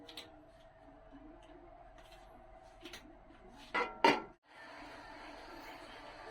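A lid set onto a cooking pot, two quick metallic clanks close together, then a steady soft simmering hiss behind quiet kitchen sounds.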